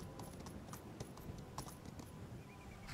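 Horse hooves clip-clopping at a run in Skyrim with the Requiem roleplaying overhaul, a steady galloping rhythm of close, moderately loud footfalls over a continuous outdoor bed, with no talk.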